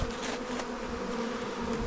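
Honeybees from newly installed packages drone steadily around a backyard hive, a close, continuous buzzing hum with a few individual bees flitting nearer.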